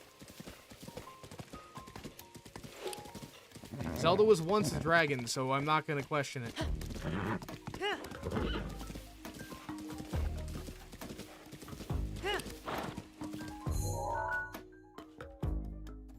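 Zelda's horse in the video game Zelda: Breath of the Wild trots with rhythmic clip-clop hoofbeats and gives a brief whinny, close and clear beneath a man's steady chatter.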